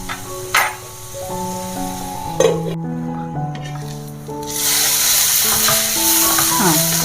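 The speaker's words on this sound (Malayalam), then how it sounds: "ഒന്ന് നല്ലോണം ഇളക്കിയിട്ട് ഒരു ലോ ഫ്ലെയിമിൽ വെച്ച് നമുക്കൊന്ന് അടച്ചു വെച്ച് ഒന്ന് വാട്ടിയെടുക്കാം" Prawns with curry leaves sauté in a pan for a Kerala-style prawn roast, a steady sizzle with light stirring and a brief clink of utensils, growing louder and more hissing toward the end, with no talk.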